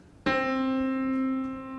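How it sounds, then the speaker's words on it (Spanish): A single plucked monochord string, full length, rings out with a sharp attack and a long, steady sustain, its clear tone rich in overtones, close and fairly loud with no talking. "Resulta que la cuerda entera suena así."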